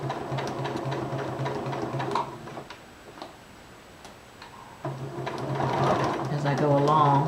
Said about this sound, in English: you see I'm sewing right from point to point.